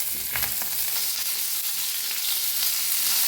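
Green chillies frying in oil on a tawa give a steady close sizzle throughout, with faint stirring scrapes and no voices.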